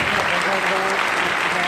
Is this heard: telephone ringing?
no